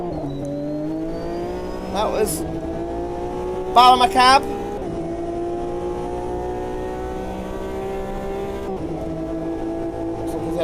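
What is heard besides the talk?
race cars in the video game Automobilista 2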